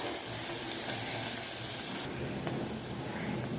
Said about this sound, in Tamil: இன்னமும் லைட்டாக கொஞ்சம் ப்ரௌன் ஆகிற வரையும் நல்லா வதக்கி விட்டுக்கிறேன்.